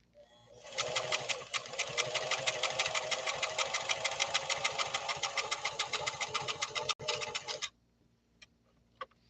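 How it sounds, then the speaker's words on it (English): An Italian Model 362 sewing machine with a 0.95 amp motor stitches in a quiet workshop: a fast, even mechanical chatter runs steadily for about seven seconds, then stops abruptly, leaving near silence. "Let's see what you think of this sew off and the sound of this Italian machine."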